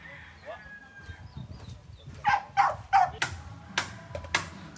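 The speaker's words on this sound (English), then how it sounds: "We've got 5 puppies." Five puppies yip and bark in a series of short, sharp, close yelps that grow louder toward the end, with background noise beneath them and no clear speech.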